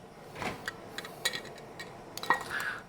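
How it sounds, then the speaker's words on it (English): Metal lids and bands go onto glass canning jars of tomatoes prepared for a water bath, giving scattered light clinks and taps of metal against glass, close by, with a small cluster near the end. "We're going to put the lids on."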